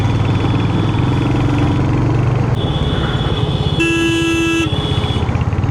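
Heavy road traffic on the way out of Rishikesh toward Haridwar, with a steady engine rumble and one long, loud car horn blast partway through over the constant drone.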